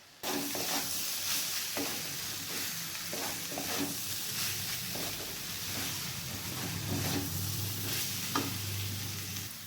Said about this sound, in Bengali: এরপর ভালোভাবে মশলাটার সঙ্গে মিক্স করে নিতে হবে।